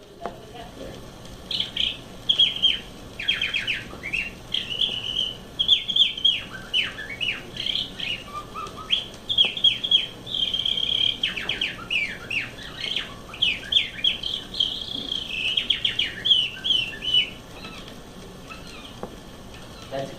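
Whistled imitation of a blackbird song from an old nature-study training record, delivered as rapid high chirps, trills and sweeping slurs in dense bursts over a faint hiss.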